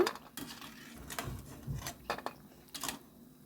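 Crispy fried snacks are placed onto a plate, making scattered light clinks and taps against the dish, quiet and irregular.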